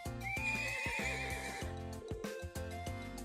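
A horse neighs in the Trails of Cold Steel video game, a clear whinny rising over steady game music with rhythmic hoof clip-clops, close and prominent throughout.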